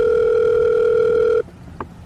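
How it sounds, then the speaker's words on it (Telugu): A steady telephone ringback tone, loud and continuous, then it cuts off abruptly and a brief faint click follows in near silence. "ఫోన్ చెయ్యిరా"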